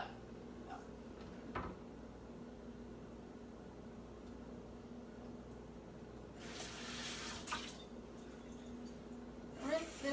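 A container is rinsed under a running kitchen tap during vegan French toast prep, with a hissing water stream surging in the middle and near the end over a low, steady background hum.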